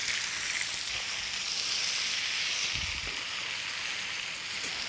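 A cod fillet sizzles in a hot pan with a steady, bright, close hiss. It crackles continuously and without pause.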